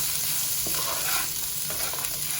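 Rice coated in lemon rice flavorings sizzles in a pan as it is stirred, a continuous close frying hiss with faint scraping and no voices.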